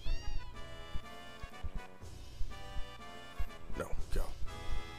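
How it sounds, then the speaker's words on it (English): A cat meows in the Final Fantasy 7 video game, with repeated short meows under game music while a player talks over them. "Oh, I want a kitty. Come here, kitty."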